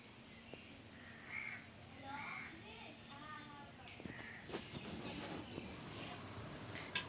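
Crows cawing outdoors on a sunny day, several harsh caws repeating at moderate distance, mixed with a voice and people talking in the background.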